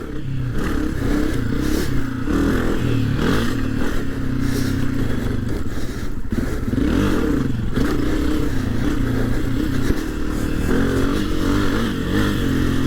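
A 2022 Honda CRF250F dirt bike being ridden, its engine roaring steadily and loudly throughout, with revving swells and some clattering mechanical noise.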